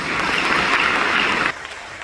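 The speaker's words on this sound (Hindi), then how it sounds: "जोर से ताली बजाओ दादी।" An audience applauding loudly at a gathering, a dense burst of clapping lasting about a second and a half before dropping off abruptly to a quieter room.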